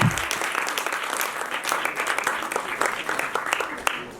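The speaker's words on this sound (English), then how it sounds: "Please give a big round of applause" A crowd applauds steadily, a dense wash of many hands clapping at once, loud and continuous throughout.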